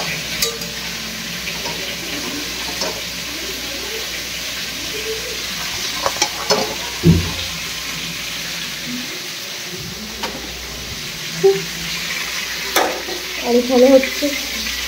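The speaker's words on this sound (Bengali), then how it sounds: "পটল ভাজা হচ্ছে, পটল আলুর দম হবে।" Pointed gourd (potol) sizzles and fries steadily in a pan, with occasional stirring clatter and brief speech over the continuous hiss.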